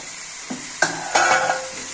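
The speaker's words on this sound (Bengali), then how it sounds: "এবার আমি একটু নেড়ে দিচ্ছি।" A utensil stirring cabbage and fish heads in a pot for ghonto, a few distinct scraping clanks against the metal over a soft sizzle, close and brief.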